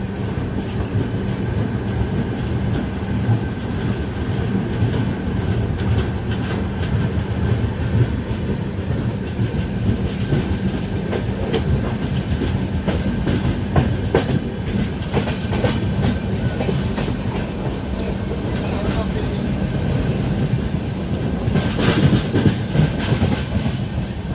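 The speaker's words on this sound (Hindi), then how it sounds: "तो अपने 2 मिनट के होल्ड के बाद तेलंगाना एक्सप्रेस काजीपेट से रवाना हो गई है।" Telangana Express passenger train departing Kazipet, a steady loud rumble of carriages on rails with rhythmic clickety-clack wheel beats throughout, heard from on board.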